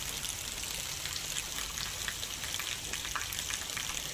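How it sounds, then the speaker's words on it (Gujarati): Light early-morning rain falls steadily in Surat, Gujarat, as a soft, even hiss of drops pattering on surfaces throughout, with no voices. "વહેલી સવારે ધીમી ધારે વરસાદની શરૂઆત થઈ"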